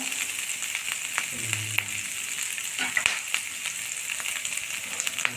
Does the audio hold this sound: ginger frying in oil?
yes